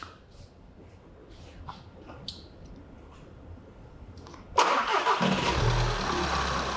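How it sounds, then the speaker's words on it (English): A van engine cranks and starts, then settles into a steady, close running rumble after a few seconds of quiet clicking and background noise. "So we started our vehicle up"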